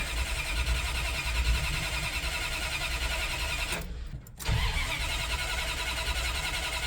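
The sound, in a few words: Ramcharger engine cranking and starting with empty carburetor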